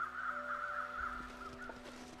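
A crow's drawn-out caw sounds in The Long Dark, a harsh call lasting about a second and a half over a low ambient drone, with no voices.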